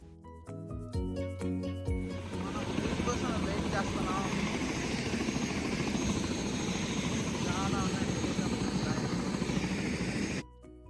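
A helicopter for a sightseeing ride drones close and loud with steady rotor thumping that settles into a continuous roar, speech heard briefly before it and the sound cutting off near the end.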